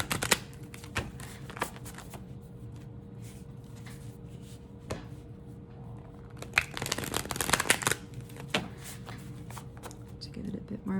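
A deck of tarot cards being shuffled by hand, soft riffling and flicking in quick irregular bursts with sharper clusters near the middle, close and fairly quiet.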